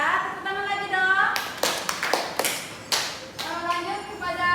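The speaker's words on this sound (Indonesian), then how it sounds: "Tepuk tangan lagi dong." A burst of classroom clapping, several quick sharp claps in a rhythmic pattern, between stretches of someone talking.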